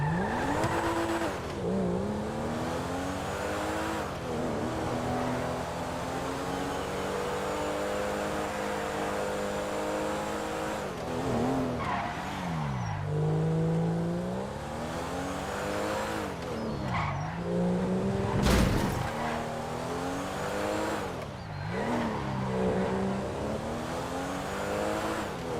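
A Pista Comet two-seater sports car in a video game, engine droning and revving through rising and falling pitch sweeps, with a sharp tire skid partway through, continuous and close.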